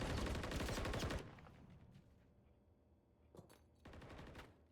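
In the video game Valorant, a loud, rapid burst of automatic gunfire opens, followed by quieter stretches and two shorter bursts of shots a few seconds later.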